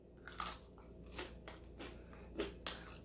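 Several crisp bites into crunchy skinny cereal clusters, four or five separate crackly crunches spaced about half a second to a second apart, close but soft.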